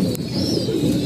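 Racing pigeons coo in a low, steady rolling murmur that fills the whole moment, close and continuous with no voices over it.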